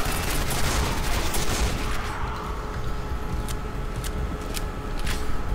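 Dense, loud bursts of weapon fire from the Quake 4 shooter game, including shotgun blasts, crack over a constant battle roar, with sharper separate shots toward the end.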